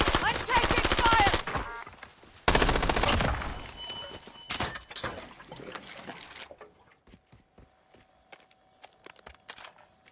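Bursts of video game gunfire, a dense rapid volley opening and a second heavy burst, then scattered lighter shots and clicks fading toward the end.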